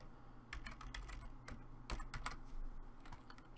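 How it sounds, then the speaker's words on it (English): Computer keyboard typing while a MineOS virtual machine name is entered, with a quick run of close, crisp key clicks in irregular bursts over a low steady hum, no speech. "Type it in just like that."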